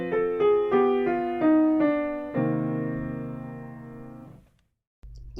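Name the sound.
minor 2-5-1 progression played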